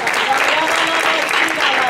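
Congregation clapping hands together in a church service, a dense, steady wash of applause from many people filling the room for the whole moment.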